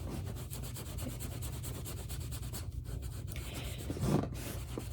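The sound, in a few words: foam with soap rubbing vachetta leather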